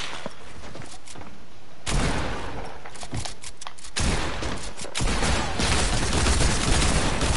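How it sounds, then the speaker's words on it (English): Gunfire in a squad-based online shooter video game: bursts of rapid shots and fusillades crackle in clusters, growing denser and louder toward the end, with no talk over them. "I'm getting shot by another team."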